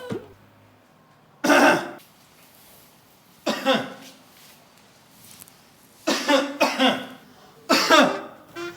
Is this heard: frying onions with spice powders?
no